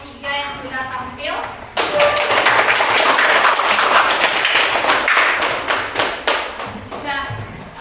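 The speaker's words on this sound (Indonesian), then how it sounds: "kita berikan aplaus media untuk kelompok 3 yang sudah tampil" A classroom full of students applauds group 3 after their presentation, loud continuous clapping lasting several seconds, with a voice speaking just before it begins.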